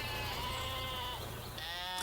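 Sheep bleat in a cartoon setting, a sustained wavering cry with a second bleat rising near the end, over a low steady background hum.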